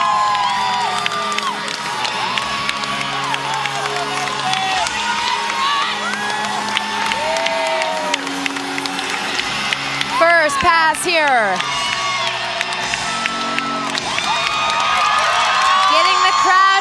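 A gymnastics meet crowd in an arena, Air Force vs. Clemson, cheers and whoops steadily during a floor routine, with a commentator talking over the noise.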